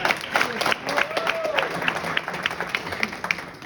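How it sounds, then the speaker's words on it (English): A church or gospel event audience gives a round of applause, scattered clapping sustained throughout at moderate level with faint voices and a brief spoken tone mixed in. "Melba Mullins, let's give her a round of applause."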